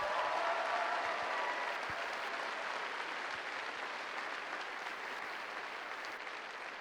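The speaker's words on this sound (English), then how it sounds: "I think that deserves a round of applause." Audience applause at a robotics district championship opening ceremony, a dense, steady wash of clapping from a large crowd that slowly fades slightly over several seconds, with no speech over it.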